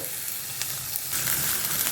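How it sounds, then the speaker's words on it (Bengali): Onions fry in a small amount of hot oil, a continuous close sizzle with crisp crackles that grows slightly louder and busier as they cook. "পেঁয়াজটাকে অল্প একটু ভাজা করে নেবো, একেবারে সে লালচে করেও নয়"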